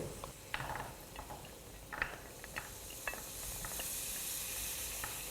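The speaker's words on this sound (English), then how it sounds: "Right, Ashley, it's starting to sizzle now, so I'm going to add the rest of my ingredients." Ingredients for a beef stew sizzle in a hot pan, a constant frying hiss broken by scattered crackles and pops, with some stirring clatter and a brighter sizzle building toward the end.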